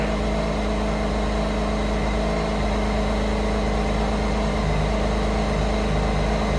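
A BMW K1600 motorcycle engine idles at operating temperature with a steady, smooth hum that holds evenly throughout, close and alone.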